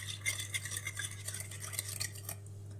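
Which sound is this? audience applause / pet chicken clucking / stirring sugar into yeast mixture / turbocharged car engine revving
stirring sugar into yeast mixture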